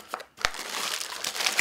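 Crinkly plastic packaging being unwrapped by hand, a close, busy run of crackling and rustling that continues with brief pauses.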